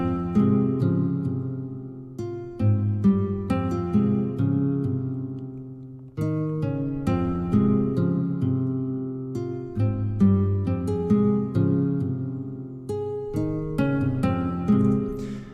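Finger-picked classic nylon-string guitar sample plays a repeating pattern over a steady beat, notes plucked in quick, even runs, full and close throughout.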